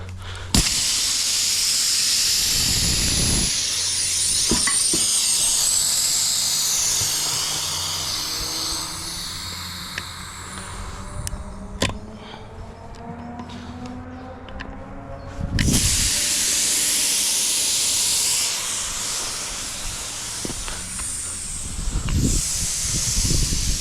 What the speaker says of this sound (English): I'm using a pair of pliers just to rip out the valve stem so the air will come out